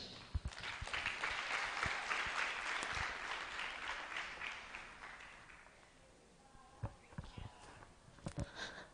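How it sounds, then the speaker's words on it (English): An indoor audience at a women and girls in cyber event in Lilongwe breaks into sustained applause that swells, then fades into a few scattered claps. "Another round of applause."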